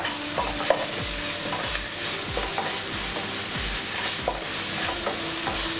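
Spices, including chilli powder, fry in a pan for masala idli: a steady, close sizzle with a spoon scraping and clanking against the pan in a regular rhythm throughout.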